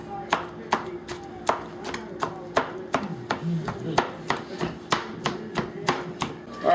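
A knife chops through homemade pita bread for pita chips in a steady run of about a dozen sharp, evenly spaced cuts on a board, close and distinct over a faint background hum.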